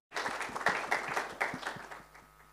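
An audience at a film promotion event claps in a brief burst of applause with some distinct individual claps, fading out toward the end.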